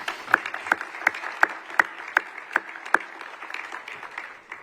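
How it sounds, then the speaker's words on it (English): Applause from an audience at an annual awards ceremony, fairly sparse and thin, with distinct individual claps standing out in an uneven rhythm over a soft wash of clapping that fades toward the end. "Yeah, you can applaud for Aaron"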